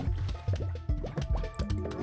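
Zombies splash into a pool in Plants vs. Zombies, a quick run of small watery plops and gurgles, close and fairly quiet, with no talk over them.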